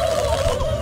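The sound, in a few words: turkeys gobbling in South Park video game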